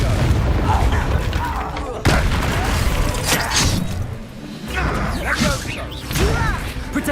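Spell combat in the Hogwarts Legacy video game: a Confringo explosion spell goes off as a sharp booming blast within a loud, continuous barrage of magical bursts, crashes and impacts, with voices shouting over the fighting.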